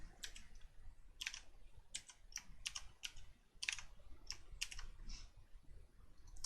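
Quick, crisp clicks of a computer keyboard come in short bursts and sound close and fairly quiet, with no talking.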